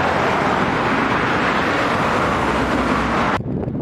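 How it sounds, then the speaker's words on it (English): Loud, steady wind buffeting a microphone outdoors in a mountain pass, a dense rumbling roar that cuts off abruptly near the end. "I don't know what to do about the noise of the wind"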